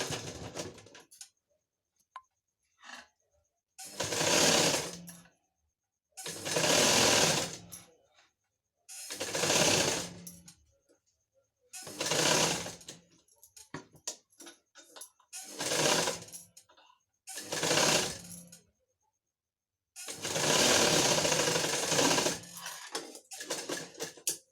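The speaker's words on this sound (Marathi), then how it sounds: "आता आपल्याला हा जवळजवळ अर्धा इंचापासून टिप मारायची आहे" Domestic sewing machine stitching pieces of a princess-cut blouse, running in a string of short whirring bursts separated by pauses, close and fairly loud.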